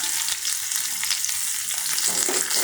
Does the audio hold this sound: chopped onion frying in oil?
yes